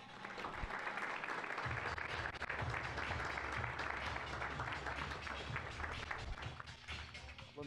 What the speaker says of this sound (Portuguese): Recebam, por favor, com uma salva de palmas